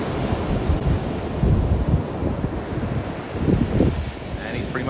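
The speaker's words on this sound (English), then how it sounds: "Receding water." Ocean surf washes and recedes from the shore with a strong right-to-left current, heard as a continuous rushing roar with gusty wind buffeting the microphone.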